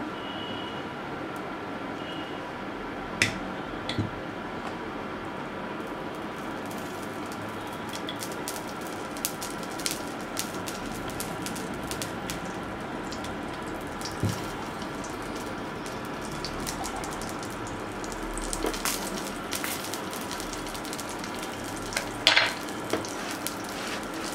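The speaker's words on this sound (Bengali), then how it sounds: "এবার আমি এটাকে ভেজে নেব, ঘি দিয়ে দিচ্ছি ভাজার জন্য।" An aloo paratha fries in ghee on a pan, making a continuous, even crackle and sizzle throughout with faint clicks now and then.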